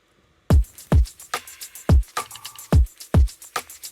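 Tight, punchy electronic drum pattern from an electronic track, processed through a drum bus: deep kick hits roughly every half second with crisp snare and hi-hat hits between, dry and upfront with no voices.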